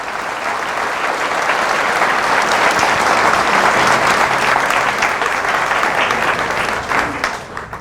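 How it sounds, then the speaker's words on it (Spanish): A church congregation applauds in a dense, sustained burst of clapping that swells and holds for several seconds before tapering off. "Fuertes aplausos al Señor."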